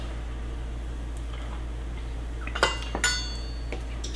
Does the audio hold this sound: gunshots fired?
no